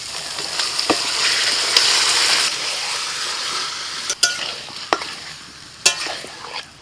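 Marinated chicken fries in hot oil with ginger, garlic and green chilli paste for Darbari chicken, giving a steady close sizzle broken by a few sharp clicks of a stirring spoon against the pan.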